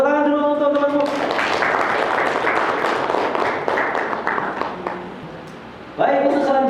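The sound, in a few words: classroom applause for a student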